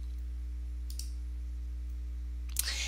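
A single mouse click on a computer's save button, faint and brief near the end over a steady low electrical hum, with another soft click earlier.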